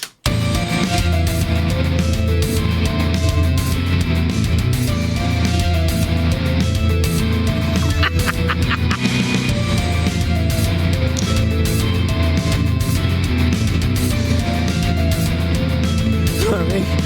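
A full rock band plays a heavier, more complex arrangement of a song, loud and dense throughout with guitars, bass and drums driving steadily for the whole stretch.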